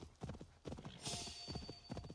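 Rhythmic clip-clop of horse hooves repeating in bursts in the video game Assassin's Creed Valhalla, with a short whinny in the middle, fairly close and clear.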